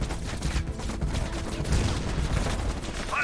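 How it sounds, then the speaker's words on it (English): Dense, continuous heavy machine gun fire rattles on without pause in Call of Duty: Black Ops Cold War, a loud, rolling wash of rapid shots with battlefield noise and no clear gaps. "Heavy MG on the ridge."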